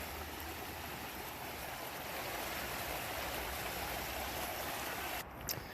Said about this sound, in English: here's our waterfall looking up the hill or up the stream